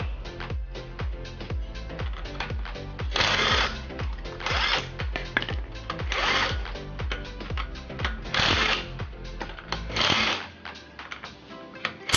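A wrench ratchets steadily while a car wheel is taken off for a drum brake service, a quick repeated mechanical clicking that continues for the whole stretch and is fairly loud and close.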